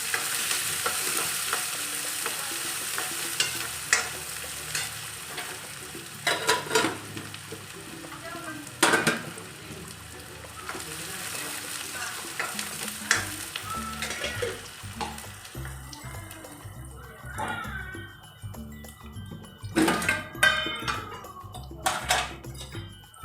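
Chicken masala with garlic and onion sizzles in a pan, the frying hiss running continuously while a spoon stirs and scrapes with scattered clinks and knocks against the pan.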